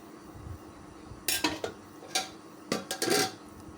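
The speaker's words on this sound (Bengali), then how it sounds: "রান্নার শেষে এখন চলে এলাম আমি ভাত বাড়তে" Rice being served onto a plate after cooking, heard as sharp clinks and scrapes of a metal spoon against dishes in two short bursts, close by, with quiet pauses between them.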